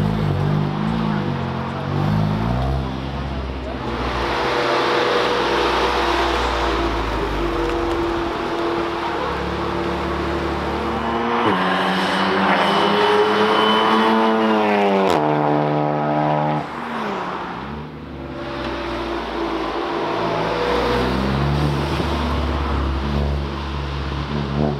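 Modified 500bhp Volkswagen Golf R track car at a circuit noise test area, engine droning and revving up and down steadily for about twenty-five seconds, loud and continuous with shifting pitch.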